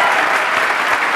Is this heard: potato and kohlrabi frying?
no